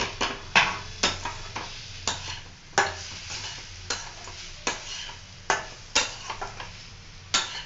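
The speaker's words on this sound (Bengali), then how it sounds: "আলু দিয়ে একটু নেড়ে নি" Potatoes and paneer being stirred in a pan for an aloo paneer dalna, a spoon scraping in regular strokes roughly every half second over a soft background sizzle, close and fairly clear with no talking.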